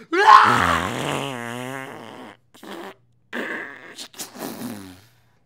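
A voice blows a long, wobbling raspberry that imitates a fart, followed by shorter sputtering bursts and brief vocal noises.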